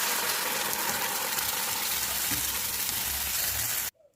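Loud, dense sizzling and hissing as a wet paste hits hot oil, steady for several seconds before cutting off abruptly.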